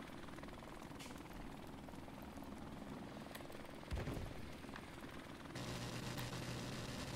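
Helicopter in the video game Call of Duty 4: Modern Warfare, a steady faint rotor thrum behind continuous game noise, with a brief thump partway through and no speech.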